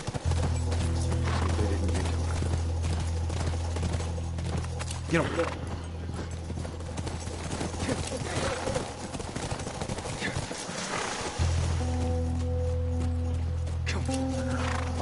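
A horse galloping in the video game The Last of Us gives rhythmic hoofbeats under people talking, with game effects mixed in.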